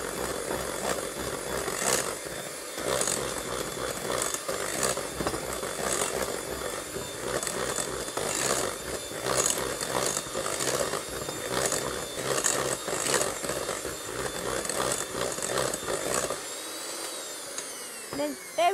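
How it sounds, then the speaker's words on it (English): Sugar being whisked into meringue gives a steady, loud whirring drone with a fast rhythmic pulse that runs nearly the whole time before cutting out at the end. "And then you just want to whisk it up a little bit, just to really amalgamate the sugar."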